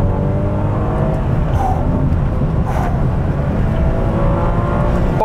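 A Ferrari 612 with a V12 engine pulls hard to high revs, a loud continuous roar with rising engine tones, heard close and steady throughout with no talking.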